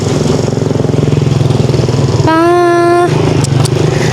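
A motorcycle engine idles with a steady, loud, close putter, then revs up sharply for under a second with rising tone before dropping back to idle, all against a continuous rumble in a hail-damaged village.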